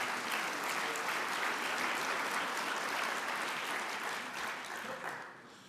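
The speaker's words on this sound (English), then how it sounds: "all three really deserve that applause you just gave them" A large audience at an award ceremony applauds loudly and steadily, the dense clapping holding for several seconds before tapering off at the end.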